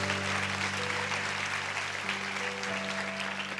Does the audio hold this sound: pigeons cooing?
no